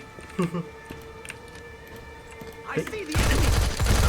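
Gunfire in the mobile shooter Modern Combat 3: Fallen Nation: a few sharp isolated shots early on, then a dense loud burst at the end, with someone talking excitedly over the action.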